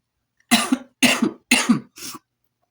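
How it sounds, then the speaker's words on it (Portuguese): Four sharp coughs in quick succession, close and loud, the last one softer, with silence before and after. "mas agora não deu, tive que tossir"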